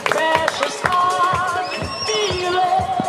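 Rapid, rhythmic hoofbeats pound along with a horse neighing, loud and near, set against a busy background; a gelding galloping at a gala evening horse show in Standenbühl.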